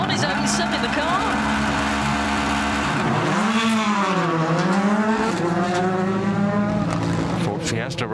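A Ford Fiesta Rally 2 rally car on a forest rally stage, its loud engine revving and shifting gears with a rising and falling pitch as it passes close by, under continuous commentary.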